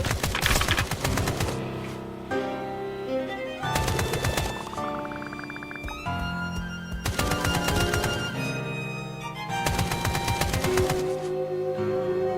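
Loud gunfire in the video game Escape from Tarkov rattles in rapid automatic bursts separated by brief pauses, with no talking.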